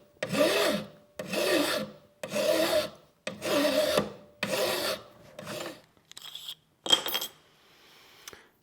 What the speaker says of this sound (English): I'm going to want to use a coarse file. I want to do long strokes across the whole length of the knife.